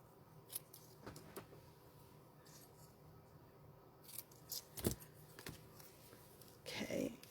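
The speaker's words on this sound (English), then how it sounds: "let me trim this off." Scissors trim a stamped paper card layer in a card-making craft: a few quiet, scattered snips and light paper handling, faint and close, with no talk.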